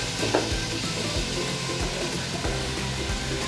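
Pork hits a hot pan of cooked tomatoes and fries with a loud, steady sizzle, crackling continuously with faint scraping of stirring underneath.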